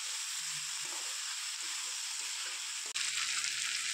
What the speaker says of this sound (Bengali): এবারটা ভালো করে কষিয়ে নেব, যাতে ফ্রাইটা একটু ভালো করে হয়ে যায়।